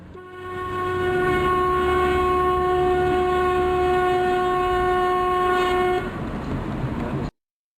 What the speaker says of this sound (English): When you honk your horn makes a sound with a constant pitch, the same frequency